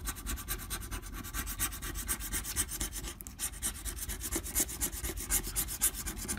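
Hoosier Lottery scratch-off tickets are scraped with an ice scraper, making quiet, close, rhythmic rasping strokes repeated steadily without pause.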